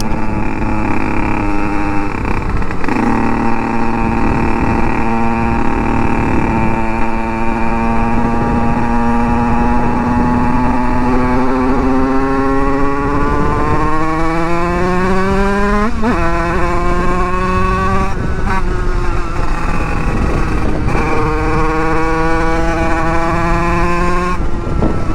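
Rieju MRT Trophy motorcycle with an 86 cc aluminium top end, heard while riding: a loud, steady two-stroke whine that climbs and falls in pitch through gear changes, close and continuous with no speech.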